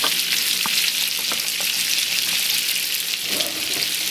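Mushrooms cooking over reduced heat in a pot of stuffed tomato stew, giving a steady, close, dense sizzle and bubbling hiss that continues throughout, with occasional light crackles.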